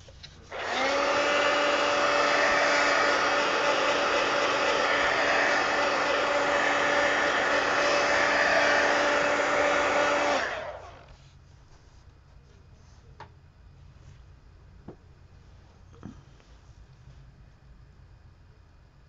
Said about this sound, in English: let me hit this with the heat gun just so I'm not accidentally smearing anything